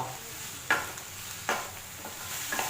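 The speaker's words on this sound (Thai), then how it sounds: "ผัดต่อ" Spring roll filling is stir-fried with dark soy sauce and green chili sauce, a low, quiet sizzle broken by a few distinct scraping strokes of the spatula against the pan.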